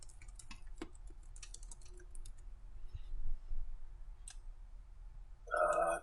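Fairly faint keyboard clicks in a quick irregular run, like typing a name into a CAD program, ending in a brief louder burst.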